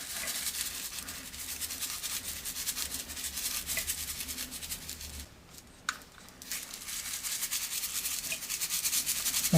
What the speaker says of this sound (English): I'm going to sprinkle each one a whole thing on the cake.